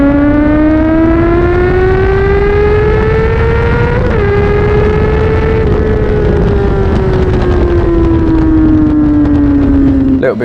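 Honda CBR 600RR motorcycle on a race track with a loud, steady engine howl that rises in pitch through the gears, then gradually falls as the rider brakes, heard close and continuous over wind noise.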